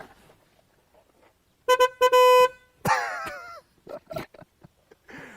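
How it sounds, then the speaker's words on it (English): A bright, toy-like horn honks a few short times and then holds a longer blast, with soft sounds before and brief noises after it. "that's a car horn."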